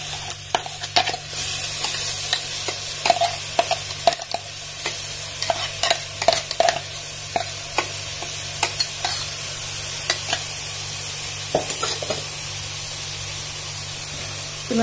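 Grated coconut, green chili and onion are stir-fried in a pan for a drumstick-leaf thoran, giving a steady hissing sizzle punctuated by repeated sharp scraping knocks of a spoon stirring at an uneven pace.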